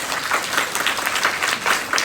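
Audience applause at a live conversation event, dense continuous clapping from a crowd, loud and even across the whole stretch with no talking over it.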